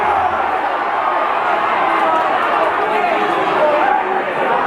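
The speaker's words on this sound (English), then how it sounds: "crowd getting excited about the game." Excited crowd noise at the Munster Intermediate Club Hurling Final between Wolfe Tones and Newcestown, a steady dense roar of voices and chatter filling the ground without letting up.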